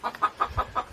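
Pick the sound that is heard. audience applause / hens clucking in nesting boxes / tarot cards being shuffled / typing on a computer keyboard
hens clucking in nesting boxes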